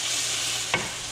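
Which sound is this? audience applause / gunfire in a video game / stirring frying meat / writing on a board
stirring frying meat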